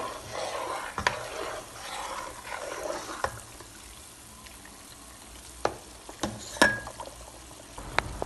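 Butter slowly simmers into clarified butter, a faint continuous bubbling and crackle with occasional sharp spoon scrapes and taps as it is stirred in the pot.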